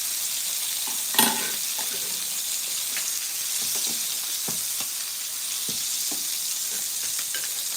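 Chuck steak frying in butter in a pan gives a steady, close, full sizzle and crackle, with small scattered pops and one sharper clatter near the start, and no talk over it.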